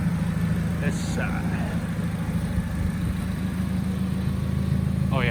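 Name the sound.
car engine idling with an exhaust leak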